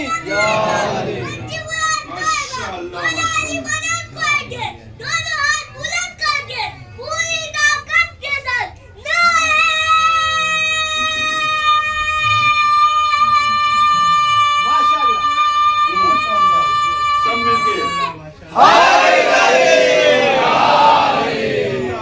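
At a religious gathering, a congregation chants in loud unison in response to a call, with rhythmic chanted phrases followed by a long, sustained group cry, then a burst of crowd noise.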